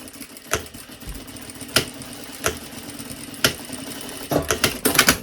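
A sewing machine stitches a half-centimetre seam in short bursts of rapid clatter separated by pauses, close and moderately loud, with a faint hum underneath.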